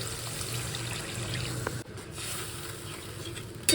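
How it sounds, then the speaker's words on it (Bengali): Water pours into a curry pan with oil, making a short, soft splashing flow against the sizzle of the pan, with a brief dip midway. "এবারে দিয়ে দেবো জল"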